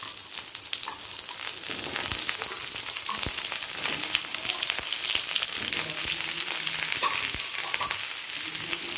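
Potato and pointed gourd frying together in a pan for a pumpkin curry, a continuous crackling sizzle with occasional sharp pops and stirring scrapes, steady and close, with no talk.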